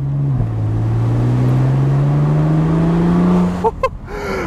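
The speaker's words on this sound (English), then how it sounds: "Oh, you can hear the engine even better." A 2012 BMW Z4 sDrive35is roadster, top down, drones steadily while driving, its engine note rising slowly in pitch, then a brief rev blip near the end over road and wind noise.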